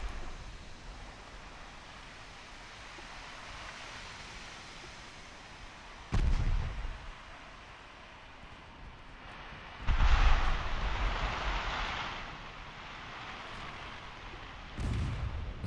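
Warship guns firing in the naval game Ultimate Admiral: Dreadnoughts, three heavy booming salvos spaced several seconds apart over a steady sea-like background rush, the middle blast followed by a longer rumbling roar.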